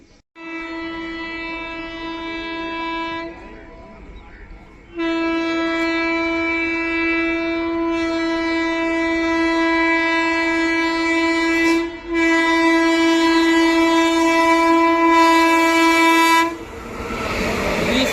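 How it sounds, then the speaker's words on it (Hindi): Magadh Express passenger train overtaking on an Indian railway line, its horn blaring in long sustained blasts, nearly continuous with a short pause, loud and close as the train rumbles past. "आ रही है अब मगध एक्सप्रेस ओवरटेक करना"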